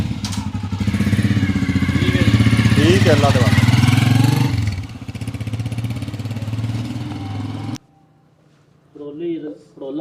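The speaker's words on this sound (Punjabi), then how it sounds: "ਮੋਟਰਸਾਈਕਲ ਦਾ ਫਿਰ ਤੁਹਾਨੂੰ ਜਾਂਦਿਆਂ ਵੀ ਸਾਊਂਡ ਚੈੱਕ ਕਰ" A Honda CG 125 motorcycle engine revving near and loud, then pulling away and fading, followed by quiet with talk; people speak over the engine.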